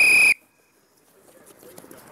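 A coach's whistle gives one short, loud, piercing blast at hurling training on a ball wall, then the sound drops away to quiet outdoor ambience.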